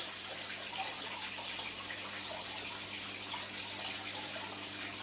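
Water gushes steadily from a big pump into a container while saltwater is being mixed for an aquarium water change, a continuous close rushing hiss with no pauses throughout.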